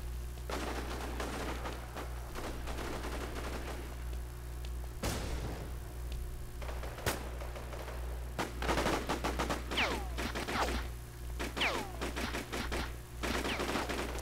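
Gunfire in the War Inc. Battlezone shooter game, heard as rapid bursts of automatic shots and single cracks, some distant and some close, over a constant low hum.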